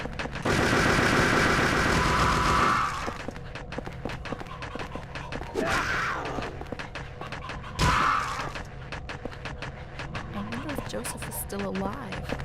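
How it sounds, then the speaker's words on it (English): An Uzi submachine gun fires a sustained, dense burst at the start, followed by scattered sharper shots, all under steady talking voices. "How about your Uzi there, your submachine gun? Fire it"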